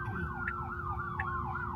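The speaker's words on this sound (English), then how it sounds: "The car did not move while the ambulance was coming through the intersection." Ambulance siren wailing through an intersection, a sweeping up-and-down tone cycling steadily over loud road and cabin rumble heard from a Tesla waiting in traffic, with no talking.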